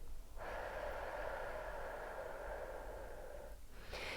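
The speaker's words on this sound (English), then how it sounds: "Then exhale for longer through your mouth for a count of 7." A long, slow exhale through the mouth, close and breathy, held for about three seconds before a brief catch at the end, with no talking.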